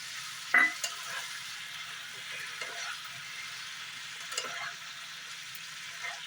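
Sprouted chickpeas with chili flakes and boiled potato stir-fry in a curry pan, a faint low sizzle with occasional soft scrapes of a spoon against the pan.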